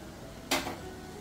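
A spoon scrapes once against a pot while dal-rice khichadi is mixed with chopped coriander, a single short clatter close by in an otherwise quiet kitchen.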